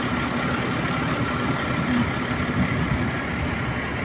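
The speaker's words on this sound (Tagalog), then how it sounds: "Yan ang pump." A pump in a repair shop runs continuously, giving a loud, even mechanical drone with a steady low hum and no pauses or voices.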